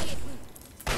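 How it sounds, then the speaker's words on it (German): Laser pistol shot in Fallout 3, a short burst of weapon fire at the start that fades, then a loud broadband blast near the end of the second. "Oh, das war eine Laserpistole."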